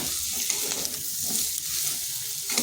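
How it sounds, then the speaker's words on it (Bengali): Papaya and soybean chunks fry together in a pan, a bright steady sizzle broken by rhythmic scraping stirs roughly every half second, close and with no talking. "এগুলোকে আবার 5 থেকে 7 মিনিট একটু ভেজে নিচ্ছি।"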